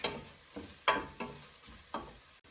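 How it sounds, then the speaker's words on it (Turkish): Bulgur pilaf with tomato, garlic and potato crackles in a hot pan, a steady soft sizzle broken by several louder stirring scrapes and pops spread over a couple of seconds, close and without talk. "Çıtırdıyor. Bu piştiğinin işaretidir."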